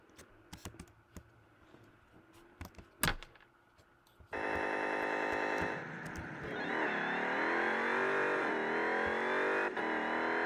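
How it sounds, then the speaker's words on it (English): A car driven in a 64-bit Steam video game running on a Mac: a few keyboard clicks first, then a loud steady engine drone that rises in pitch as it accelerates and holds. "I can drive a car here."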